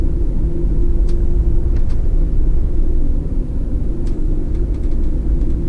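A car rolls slowly through a campground at Seminole Canyon, its steady low engine rumble and tyre noise close and continuous, with a few faint ticks and clicks above it.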